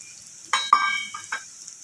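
Whole spices for tempering hit hot oil in a pan for kadhi, giving a brief loud crackling sizzle that bursts suddenly, then softens, with a second short flare near the end.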